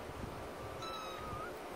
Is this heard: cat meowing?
yes